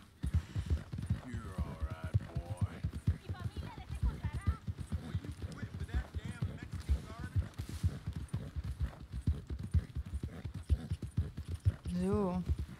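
Horse hooves clip-clop steadily near a stable in the video game Red Dead Redemption 2, with occasional snorts and a whinny, all under continuous talking.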